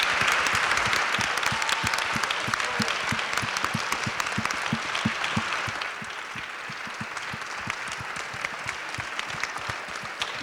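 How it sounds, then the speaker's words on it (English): Sustained applause from an audience honoring a panel at a women-in-leadership event in Massachusetts, dense clapping filling the room for about ten seconds and easing slightly in the second half, with no talk over it. "I'd like a huge round of applause for this incredible panel and Janet Lee."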